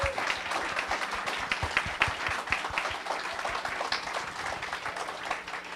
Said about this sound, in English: So let's give the candidates a big round of applause.